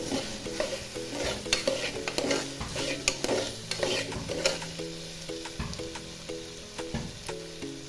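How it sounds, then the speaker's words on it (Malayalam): Onion, tomato, ginger and green chilli sauté in a pressure cooker, a constant close sizzle under repeated sharp scrapes and knocks of a spoon stirring against the metal. "തക്കാളി ഇഞ്ചി പച്ചമുളക് ഇവ മൂന്നും ഒരുമിച്ച് കുക്കറിലേക്ക് ഇട്ട് കൊടുക്കുക നന്നായി ഒന്ന് വഴച്ചെടുക്കുക"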